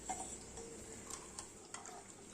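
Buttermilk (mattha) with black salt, sugar and salt being churned and stirred in a vessel, giving faint light clinks and soft sloshing ticks at irregular intervals over a quiet background.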